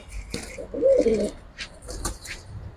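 A Military Lal Patti, Hemar or Bezi pigeon at a pigeon sale coos once in a soft, low warble, with faint scattered clicks and rustling around it and no talking.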